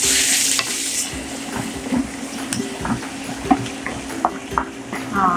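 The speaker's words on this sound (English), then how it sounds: "Once that's hot, we can add in our garlic, minced garlic." Minced garlic sizzles and crackles in hot oil heated at medium high, with steady frying hiss and scattered stirring clicks, close and fairly loud, with no talk.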